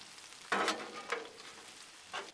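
Peppers and onions sizzle on a hot Blackstone griddle as a utensil scrapes and stirs through them in a few short strokes.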